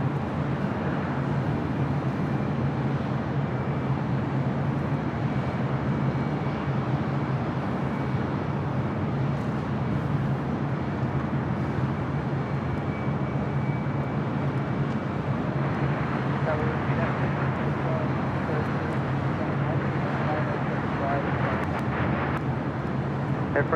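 Air France heavy airliner arriving from Papeete at LAX, a continuous low engine rumble and roar that holds steady throughout, distant, with faint background voices.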